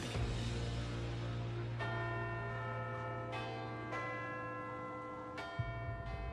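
Westminster clock tower bells ring out with several distinct strikes, each leaving a long, shimmering ring, over a steady low hum.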